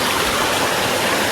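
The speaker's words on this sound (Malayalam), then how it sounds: "ഇതാണ് ആ അരുവി." A forest stream near a waterfall rushes and flows in a steady, dense wash of water noise that stays constant for a short moment, close and fairly loud, with no voices.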